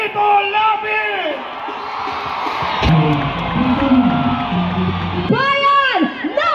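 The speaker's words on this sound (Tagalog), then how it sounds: "Isang malakas na sigawan para kay Senator Lito Lapid!" A large crowd at a Philippine Senate campaign rally shouts and cheers loudly for Senator Lito Lapid, with whoops and bellows rising throughout and a strong burst of yelling near the end, as a voice calls out over the noise.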